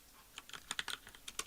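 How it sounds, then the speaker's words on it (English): Quick, irregular keystrokes on a computer keyboard make a dozen or so soft, close clicks in an uneven rhythm, with no talking. "just you're typing"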